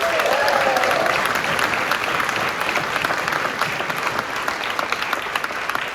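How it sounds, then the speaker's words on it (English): Delegates at a political nominating convention applaud, a loud, continuous crowd clapping sustained for the full length, with a brief voice or cheer near the start. "Give yourself a round of applause."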